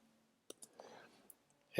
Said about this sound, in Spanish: le damos doble clic y editamos el